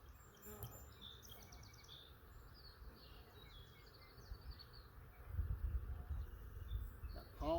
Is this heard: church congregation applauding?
no